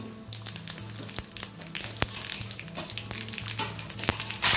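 Tempering spices and curry leaves crackle and sizzle in hot oil, a busy, continuous frying hiss with frequent sharp pops and spits, close and fairly loud, with no talking.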